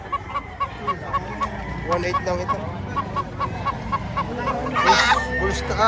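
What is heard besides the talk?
gray chicken at poultry auction market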